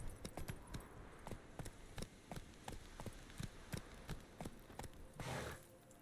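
Horse trotting in The Witcher 3 video game, its hooves making a steady run of crisp clip-clop beats, close and clear over a low ambient bed, with a brief whooshing burst near the end.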